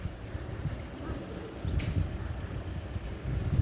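Wind buffets a microphone on a breezy beach at Conil in Spain, a steady low rumble with gusts swelling louder in the second half and no clear voices.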